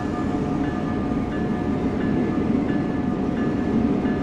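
A train rolling into a station in Train Sim World 6, a steady low rumble with faint tonal hums and a few soft clicks, continuous and moderately loud with no talking.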